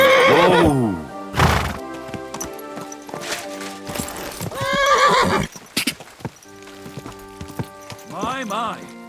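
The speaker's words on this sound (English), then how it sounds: "My, what a beautiful horse." A horse in Kingdom Come Deliverance 2 whinnies loudly several times, with hoofbeats clip-clopping between the neighs and brief game voices in the mix.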